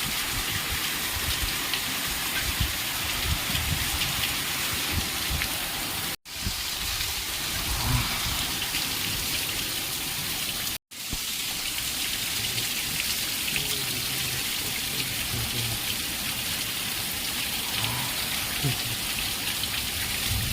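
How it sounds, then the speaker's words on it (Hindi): A heavy night downpour roars steadily, with low rumbles of thunder rolling beneath the dense rain hiss and two brief cut-outs in the sound. "बहुत जोर वर्षा"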